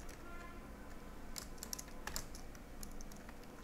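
Computer keyboard typing with a few sharp key presses, part of a Ctrl+Shift+Enter shortcut while coding in Android Studio; soft, close clicks over steady low room hum.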